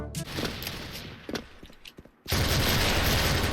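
An EVL AUG fires in the shooter game Special Force: a few scattered shots, then a loud, sustained burst of rapid automatic fire that fills the final second.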